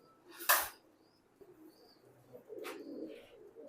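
Pigeons coo softly in a low, throaty murmur, with a couple of brief bird chirps standing out over a quiet background.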